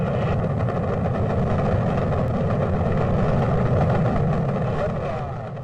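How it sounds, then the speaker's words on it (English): Space shuttle rocket engines roar at launch, a loud, continuous broadband rumble that holds steady for several seconds and fades slightly at the end. "2, 1, 0, all engines running."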